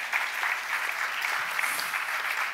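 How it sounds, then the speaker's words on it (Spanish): An audience at a talk on LGBTI policy applauding the technicians, a steady wash of many clapping hands, fairly even and sustained, heard somewhat distantly without speech over it. "ara un aplaudiment pels tècnics"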